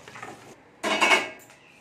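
A metal utensil scrapes and clatters against a pan while fried prawns are lifted out: a light scrape first, then a sharper, louder clatter, close and with no talking.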